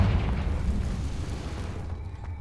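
A Confringo spell blast in Hogwarts Legacy booms as a deep, rumbling explosion that rolls on steadily before thinning out and fading near the end.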